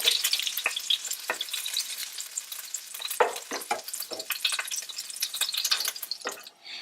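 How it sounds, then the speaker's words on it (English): Pork ribs sauté in hot oil in a pan, giving a steady loud sizzle with crackling pops and occasional stirring scrapes throughout. "So you only need to saute this for about 5 minutes."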